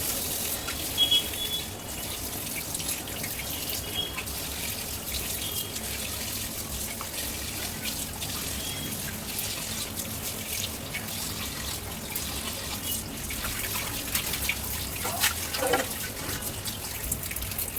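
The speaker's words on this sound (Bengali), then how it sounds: "তো এখানে আমি ভালো করে মাছটা ধুয়ে নিয়েছি।" Tap water runs steadily into a sink while fish is washed for a home cooking recipe, a continuous broadband splashing rush with occasional louder gushes and drips, close and alone without any talk.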